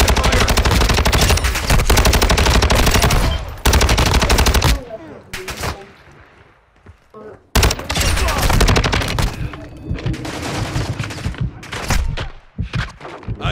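Loud, sustained automatic gunfire in the Call of Duty DMZ video game, rapid bursts breaking off into scattered single shots and then resuming in heavy, continuous fire.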